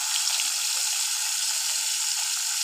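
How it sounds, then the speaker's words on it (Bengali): Fish deep-frying until crisp while floating in hot oil, a steady bright sizzle and crackle holding an even level throughout, with no voices. "মুচমুচে করে তেলে ভাসিয়ে আমরা ভেজে নেব।"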